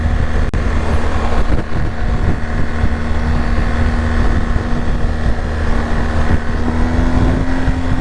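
A 2023 Triumph Tiger 1200 GT motorcycle engine runs steadily while riding, a loud continuous drone with a rising tone near the end, heavily buffeted by rushing wind noise.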